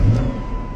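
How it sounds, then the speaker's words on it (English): A car engine catches and settles into a steady idle after a locksmith makes a replacement key. The low rumble is brief, close and continuous. "So now we're gonna try to start the car."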